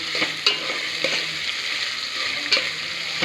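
Tomatoes hitting carrots already frying in hot oil, a steady close sizzle with a few stirring scrapes of the spoon.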